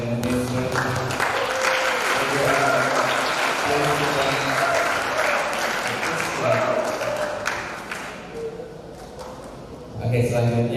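Audience applause after an international public lecture on conserving the tree of life, a sustained wash of clapping from a crowd in a hall that fades toward the end, with a host speaking over it.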